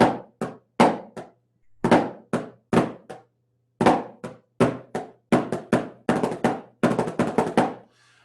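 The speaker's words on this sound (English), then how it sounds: "these are flam taps. So you do flam tap, and I would alternate." Crisp snare drum flam taps ring out alone in short clusters of sharp, close strokes, each grace note hugging its main stroke, in an uneven rhythm with brief pauses between groups.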